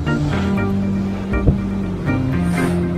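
A boat travels across the open sea, its engine droning steadily with wind and water rushing past loudly and close throughout.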